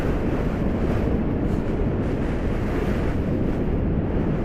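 Wind rushes past a downhill skier at speed, a loud, unbroken roar of air buffeting the microphone with no pauses and no voices.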